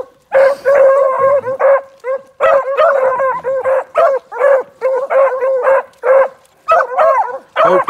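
Several dogs on a hunting-dog training outing, including a young red female pup, barking, yipping and howling excitedly in loud, close, repeated bursts with short pauses between volleys.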